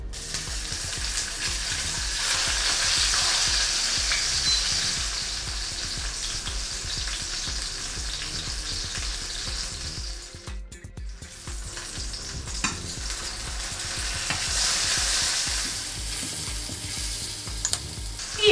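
Zucchini slices fry in a pan with a constant loud crackling sizzle, swelling and ebbing as pieces are moved, with a brief lull and scrape midway and no voices.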